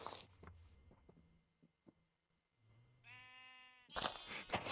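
A sheep bleats once in a video game, a clear, wavering call near the end that follows a few soft clicks and thumps, with a sharp burst of noise at the start and at the close.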